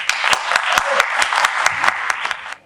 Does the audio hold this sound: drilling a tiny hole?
no